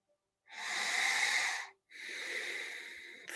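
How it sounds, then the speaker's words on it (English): Two long, deep breaths during a guided breathwork session, each a loud, airy rush lasting over a second with a brief pause between, close and alone with no talk. "Breathing deeply."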